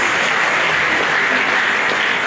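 Loud, dense applause from a lecture audience fills the space continuously, a steady wash of many hands clapping with no speech over it.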